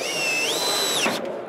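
A collated screw gun whines loud and close as it drives a screw through drywall into wood, its pitch rising, holding, then dropping off as the motor stops.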